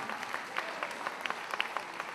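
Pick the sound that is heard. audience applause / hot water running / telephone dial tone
audience applause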